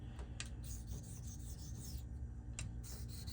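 A straight razor's bevel being set on a Shapton 1.5K whetstone, steady rasping strokes of steel on stone repeating in a continuous rhythm, close and fairly quiet with no talk.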